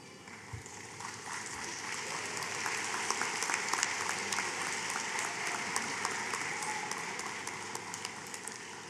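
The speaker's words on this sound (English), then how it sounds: "Students, this is your time to applaud those people" High school students applauding at a convocation ceremony, a broad, sustained sheet of clapping from a large crowd that swells slightly and stays fairly distant, with no one speaking.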